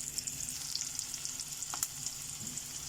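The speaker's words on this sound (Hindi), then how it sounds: "ओनियन को हमें सिर्फ सॉफ्ट करना है, इसे ज़्यादा डार्क कलर नहीं लाना है, बस ओनियन सॉफ्ट हो जाए" Chopped onions fry in a pan until soft, giving a steady, close sizzle and crackle with faint stirring noises and no talk.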